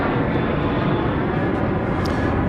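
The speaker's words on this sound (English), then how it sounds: "This is a twin-engine, propeller-driven plane." A Beech King Air 350i twin-engine propeller plane drones in a loud, steady, broadband roar at Dallas Love Field at night, close and continuous without a break.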